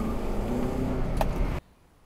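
A car engine with a newly replaced variable valve timing solenoid runs loud and strained under acceleration, heard close up from inside, then cuts abruptly to near silence.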